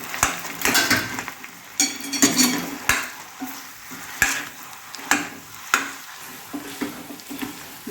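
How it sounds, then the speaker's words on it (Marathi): Potato sheera for a fasting-day dish being stirred in plenty of ghee in a pan, with repeated scraping and clinking strokes of a spoon against metal over a soft sizzle, close and steady, no talk. "हे व्यवस्थित मिक्स करून घेऊया तुपामध्ये"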